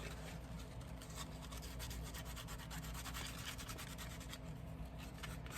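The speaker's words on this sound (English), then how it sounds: "you can take a worn out sandpaper and just rub it on top of the straps there." Worn sandpaper rubs back and forth over the straps of Chanel sandals, a soft, close, steady scratchy scuffing that runs continuously without pause at low volume.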